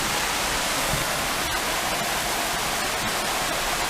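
A small waterfall, more of a little stream, rushes loud and constant close by, an unbroken hiss of flowing water with faint clicks on top.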